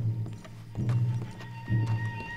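Horses in the video game Red Dead Redemption 2, hooves clip-clopping in a steady loping rhythm with low thuds recurring about every second, moderately close, with no speech.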